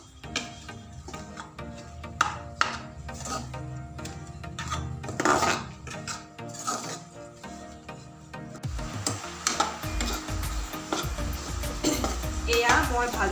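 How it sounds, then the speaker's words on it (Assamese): Flour frying in melted ghee for a halwa, stirred in a pan with repeated scraping and clinking of a spoon against metal, a soft sizzle underneath, close and fairly busy, with some voice in the background. "এতিয়া মই আকৌ পুনৰ ঘিউখিনি গলি হৈ ময়দাখিনি লাগি নোযোৱালৈকে মই ভাজি থাকিম।"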